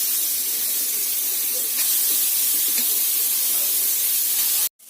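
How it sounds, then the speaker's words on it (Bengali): Grated carrot frying in hot ghee over low to medium gas, a dense, even sizzling hiss that holds steady, then cuts off abruptly at the end. "ঘি দিয়ে গ্রেট করা যে গাজরটা আছে সেই গাজরটা আমি ভেজে নেব।"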